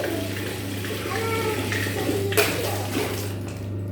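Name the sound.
hot water poured into a child's bathing tub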